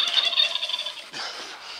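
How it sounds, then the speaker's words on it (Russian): A turkey gobbles in a rapid warbling burst, then a second rougher call follows, fairly close and clear. "Индюк."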